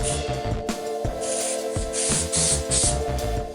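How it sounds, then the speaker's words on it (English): Short bursts of 3M fabric adhesive spray are applied while making a custom car console. Several sharp, close hisses come in quick succession with brief pauses between them, and faint shop noise sits underneath. "Some of this fabric spray."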